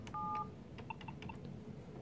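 DTMF keypad tones dialing the voicemail access code *17 on an Avaya IP Office phone: a few short, distinct electronic beeps in quick succession, faint and clear over a quiet line hiss, with no talking.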